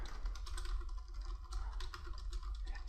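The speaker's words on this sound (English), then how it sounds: "I could type whatever I want in here." Fast, steady typing on a computer keyboard while entering text into a terminal file, with quick, even keystrokes close to the microphone and no talking.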